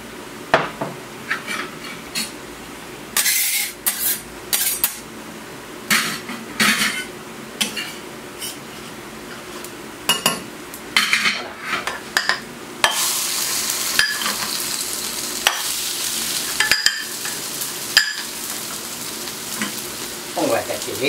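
Potato rösti galettes with herbs fry on a lightly oiled plancha with a steady sizzle, broken by clinks and scrapes of a metal utensil; the sizzling swells louder and denser partway through.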